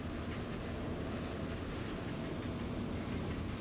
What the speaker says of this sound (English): The generator is very loud.